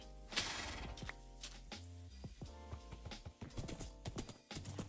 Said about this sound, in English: What should I name this horse?